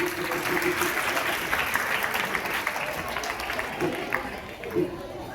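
An audience at a school Science Day event bursts into sustained applause, a dense, close wash of clapping that continues steadily throughout, with a few voices talking over it.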